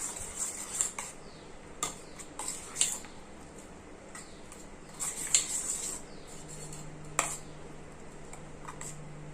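A spoon stirring a flour slurry in a bowl: light, irregular clinks and taps of metal against the bowl, with several brief bursts and quiet pauses between them, close and faint.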